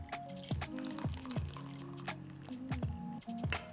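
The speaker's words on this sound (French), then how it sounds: "vous versez l'eau directement sur les plantes" Hot water is poured from a kettle straight onto rosemary and other herbs to make tea, giving close, repeated splashes and a gurgling fill in short bursts, with no talk.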